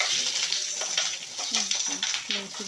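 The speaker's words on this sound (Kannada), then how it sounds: "ಮೆಣಸಿನಕಾಯಿ ಚೆನ್ನಾಗಿ ಫ್ರೈ ಆಗ್ತಾ ಇದೆ." Green chillies fry in hot oil with a continuous bright sizzle and crackle, joined by stirring sounds, while a voice talks faintly over the frying.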